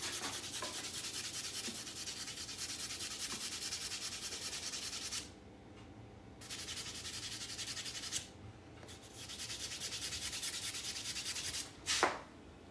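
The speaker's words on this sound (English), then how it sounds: "now I'll take this fingernail buffing block and this will shine it up real nice" Fingernail buffing block rubbing back and forth over a 2024 Year of the Dragon one-ounce silver round, a steady close scratchy hiss that stops briefly twice before resuming, ending with a sharper scrape.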